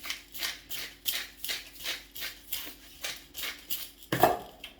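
Utensils stir whelk tartare seasoned with salt and pepper in a close, even rhythm of clinking, scraping strokes about twice a second, with one sharper clack near the end.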